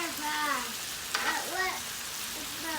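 Stuffed bacon cheeseburgers sizzle on a Blackstone griddle with a steady crackling hiss throughout, while a nearby voice, likely a child, speaks briefly over the frying.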